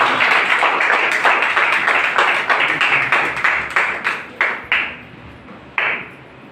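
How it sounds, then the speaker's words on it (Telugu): A church congregation at a Sunday service claps together in a strong, even rhythm, loud and close, then the claps thin out into a few separate, slowing claps near the end. "మనం అందరూ కూడా చప్పట్లు కొట్టి"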